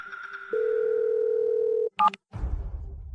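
A telephone dial tone hums steadily for over a second after a call is hung up, then cuts off with a short burst of tones followed by a noisy thump.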